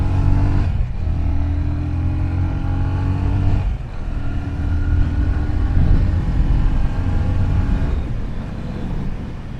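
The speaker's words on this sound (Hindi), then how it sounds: "इसका एग्जॉस्ट नोट भी बहुत ही बेसी है, बहुत ही बीफी साउंड करता है इसका एग्जॉस्ट" Yamaha FZ25 motorcycle accelerating with a beefy exhaust note, a loud sustained engine drone rising in pitch through several gear pulls, close and continuous with brief dips between shifts.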